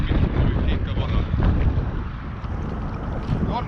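Strong wind buffets the microphone beside Maardu lake, a loud, constant roar with gusting rumble throughout, near and unbroken, with water movement faintly beneath.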